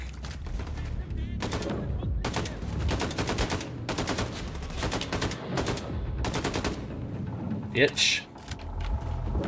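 Rapid gunfire from Wolfenstein II: The New Colossus, in dense repeated bursts that run nearly the whole time, loud and close, with a brighter crack near the end.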